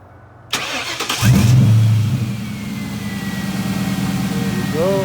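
A 1996-98 Ford Mustang fitted with new high output ignition coils cranks briefly, fires instantly and revs up loudly, then settles into a steady close idle with a faint whine.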